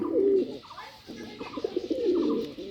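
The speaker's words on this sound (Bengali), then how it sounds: "দেখুন কবুতর কি সুন্দরভাবে ডাকাডাকি করে।" Pigeons cooing close by, Bombay and Rajshahi Giribaz breeds, with two soft rolling coo phrases separated by a brief pause.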